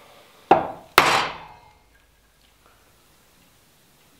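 A chisel hacks across timber end grain while laying out a timber-frame brace: two sharp, loud, close wooden strikes half a second apart, each ringing off briefly, then near silence.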